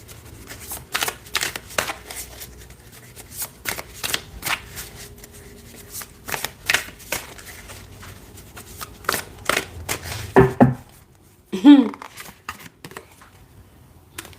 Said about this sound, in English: I'm going to pull some cards and see what else I get here